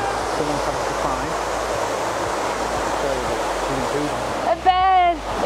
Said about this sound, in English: The waterfall behind me.